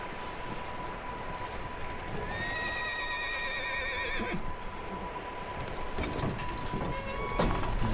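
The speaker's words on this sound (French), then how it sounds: "Un gros hennissement ça." A horse in Red Dead Redemption 2 lets out a long, loud whinny in the middle, over clip-clopping hooves and steady outdoor ambience, with more hoof and movement noise near the end.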